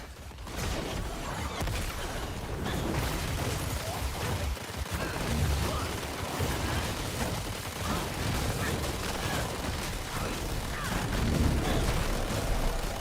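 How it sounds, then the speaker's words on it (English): Dense crackling, rumbling explosion and blast effects in the action RPG Diablo 4 during a paladin fight, continuous and fairly loud, with scattered impacts. "Can I survive the explosion?"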